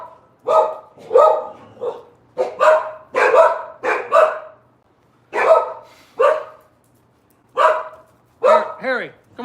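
Harry the dog barks in a loud, close series of about a dozen sharp woofs in uneven bursts, the last trailing into a higher whine-like yelp.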